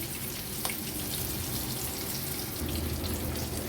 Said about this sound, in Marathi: पुन्हा गॅसची फ्लेम लो टू मीडियमवर ठेवते आणि मागची बाजू पण अशीच फ्राय करून घेते